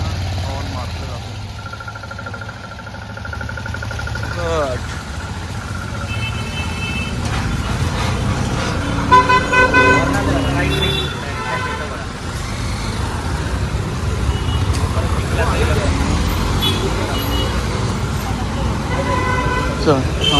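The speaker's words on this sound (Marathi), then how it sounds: "लोक ट्रॅफिकमध्ये उगाच हॉर्न मारतात." Car and truck horns honk repeatedly amid roadway traffic near the Borli Sunday market, short toots and beeps rising over a steady engine rumble, with people talking in the background.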